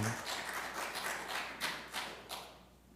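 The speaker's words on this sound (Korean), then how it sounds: "위로의 박수 부탁드립니다" A church congregation claps together during a worship service, a soft, somewhat distant patter of hands with a few louder bursts, fading toward the end.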